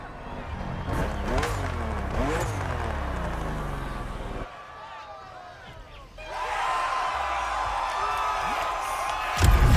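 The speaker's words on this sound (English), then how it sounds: "BMW M2CS, a legend in the making." A BMW M2 CS in the racing game The Crew Motorfest revs through rising engine sweeps early on, then drops quieter before swelling again under crowd noise, with a voice talking over it.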